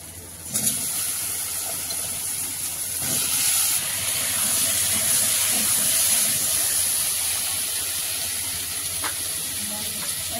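Garden-dug potatoes added to a pan of hot oil with fried onions, a sharp splash of sizzle at the start settling into a continuous loud, hissing fry that holds steady to the end.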